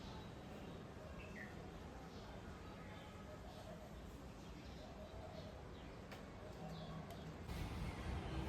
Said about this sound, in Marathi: जिकडे तिकडे सगळ्या पक्ष्यांचा किलबिलाट